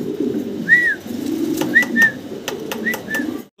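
An imported pair of large blue-bar giant homer pigeons gives short rolling coos: one early, then two pairs of calls a second apart, with faint clicks and soft shuffling beneath.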